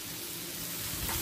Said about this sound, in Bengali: মিডিয়াম ফ্লেমে 2 মিনিট ভেজে নেওয়ার পর